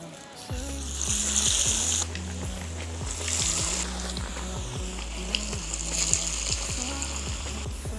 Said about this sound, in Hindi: बाकी के जो पीस हैं वो भी हम इसी तरह से फ्राई करेंगे